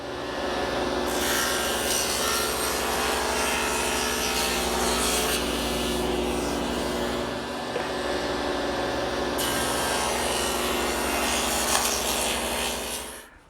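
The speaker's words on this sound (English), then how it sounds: "I've set up the table saw with this feather board to keep the stock tight against the fence" A table saw cuts a groove along a pine board held against the fence by a feather board, a loud, sustained ripping whine that changes tone as the stock feeds through and drops away at the end.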